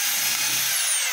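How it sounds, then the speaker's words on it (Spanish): A Makita 2475 rotary hammer runs a drilling test with a loud, steady high-pitched whine and grinding hiss, continuous and close, with no one talking. "Vamos a hacer una pequeña prueba de horadado,"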